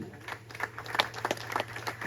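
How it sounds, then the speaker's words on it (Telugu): Guests at Jyothi and Rajesh's engagement ring ceremony clap: faint, scattered claps in an irregular patter, heard from a distance in a quiet room. "బిగ్గరా చప్పట్లు కొట్టండి."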